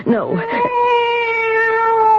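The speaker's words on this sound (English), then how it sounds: "It's the cat." A cat lets out a loud, close meow that bends into a long, steady, drawn-out yowl, ringing clearly and alone for about two seconds.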